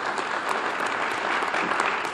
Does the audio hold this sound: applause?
yes